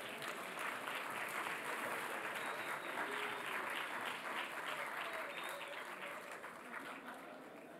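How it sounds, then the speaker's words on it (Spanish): A large audience claps steadily for award-winning student projects at an engineering symposium, a dense, sustained wash of applause holding for several seconds before easing slightly toward the end. "Un aplauso para ellos, por favor."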